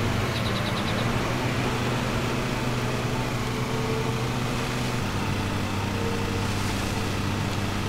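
Lawn mower engine in Lawn Mowing Simulator, overloaded and straining, a loud, steady mechanical drone with a constant low hum throughout.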